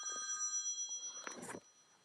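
A mobile phone rings with a bright, steady electronic tone that stops partway through, followed by a few fumbling handling noises and then quiet.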